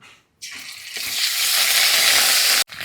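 Ginger paste frying in a hot pan for a fish and cauliflower curry, a loud steady hiss that bursts in after a brief pause and swells, then cuts off abruptly near the end.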